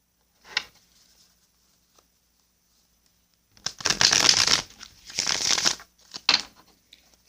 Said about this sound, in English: Give it another shuffle.